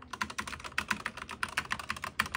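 Rapid typing on a SteelSeries Apex Pro TKL keyboard with OmniPoint switches, a steady close-up run of crisp clicks and clacks with occasional louder keystrokes, heard alone.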